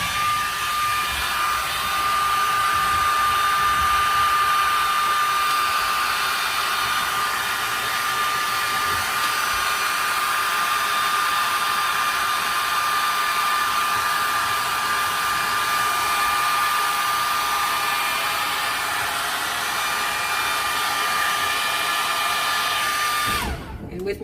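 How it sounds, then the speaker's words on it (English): Hair blow dryer running continuously for over twenty seconds, heating peel and stick tile during installation: a steady, close whooshing whine that holds an even level, then cuts off abruptly at the end. "And then I'm going to do the blow dryer around that."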